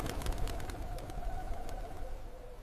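Pigeons cooing on a frosty Paris square, soft low repeated coos heard faintly at a distance under a wash of ambient noise.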